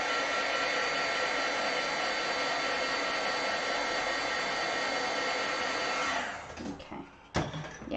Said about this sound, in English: I was just showing you there that you should always heat set first.